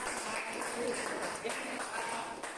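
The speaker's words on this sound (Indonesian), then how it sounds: "Oke, kasih aplaus dulu untuk" Classroom applause, a continuous patter of many hands clapping at moderate loudness, with a voice speaking over it.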